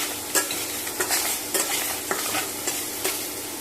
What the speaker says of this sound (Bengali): মাছটা আমি একটু ওলট পালট করে নিলাম।